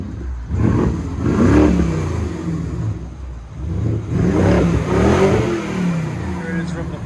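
A BMW 650i xDrive convertible's 4.4L V8, running a Vibrant resonator or straight-pipe exhaust, revs in two strong, rising bursts that settle back to a rumbling idle, loud and close.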